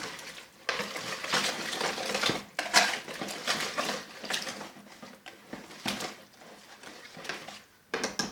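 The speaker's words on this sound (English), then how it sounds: "I'm going to go ahead and whisk this in" Seasonings such as onion powder and garlic powder being whisked into a potato mixture in a bowl, with steady scraping and clinking of the whisk against the bowl, fairly close and without speech.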